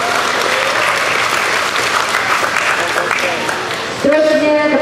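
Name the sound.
audience applause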